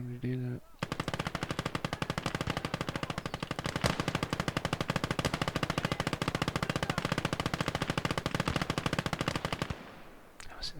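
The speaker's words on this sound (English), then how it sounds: "He's able to shoot at us. We can't shoot back." Sustained automatic enemy gunfire in the video game Surviving Conquest Enhanced, a dense, loud rattle of rapid shots that runs unbroken for about nine seconds before cutting off.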